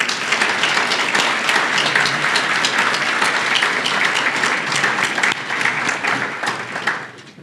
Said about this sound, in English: we give our award winners one more round of applause